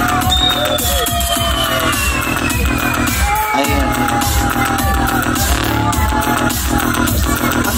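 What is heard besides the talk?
fireworks bursting with crowd cheering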